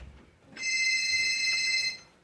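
A telephone rings once in a school class play, one sustained electronic trill of about a second and a half standing out clearly against a quiet room.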